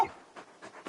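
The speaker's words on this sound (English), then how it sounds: "You're just a big puppy, aren't you? A very big puppy." Large dog panting in the Final Fantasy XVI video game, four soft, breathy pants spaced in an uneven rhythm, quiet and close.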